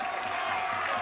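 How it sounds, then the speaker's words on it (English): A crowd at an under-24 ultimate frisbee final cheering as a steady, broadband roar with some scattered clapping, brief and moderately loud. "And the crowd is turning up the heat now."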